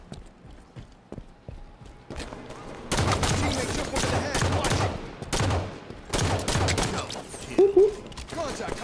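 Rapid bursts of gunfire from the video game Halo 5 multiplayer, quiet at first, then dense, loud volleys from about three seconds on, with a brief pause and a short tonal game effect near the end; a voice is faintly present.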